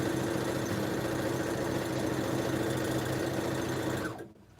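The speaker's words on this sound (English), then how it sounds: "Don't talk while you're sewing" Sewing machine stitching a scrappy rainbow pineapple quilt block, a fast steady mechanical whir running close and continuous for about four seconds before stopping abruptly, no talking over it.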